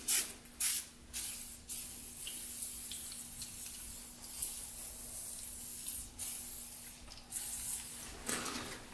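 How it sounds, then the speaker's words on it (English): A WD-40 aerosol can sprays in repeated hissing bursts, short and longer sprays separated by brief pauses, close by. "you can spray some WD-40"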